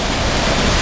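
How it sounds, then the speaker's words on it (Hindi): Water rushes down at a water mill in Sakhakot, Malakand, a loud, dense, steady roar of falling water with no breaks. "वो पानी नीचे आ रहे हैं"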